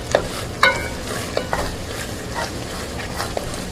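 A spoon stirs a hot, thick coconut drops mixture in a pot on the stove, making close scraping and bubbling sounds with a soft sizzle underneath and a few louder knocks.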